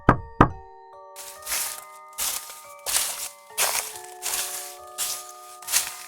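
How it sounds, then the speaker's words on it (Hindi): Soft, evenly spaced knocks on a door in a horror animation, about eight muted thumps at a steady pace after two sharper opening hits, with a sustained eerie musical tone beneath them. "कभी दरवाजे पर हल्की दस्तक देकर"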